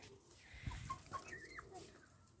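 Chickens and roosters cluck softly at a distance with short, scattered calls over a quiet outdoor farmyard background.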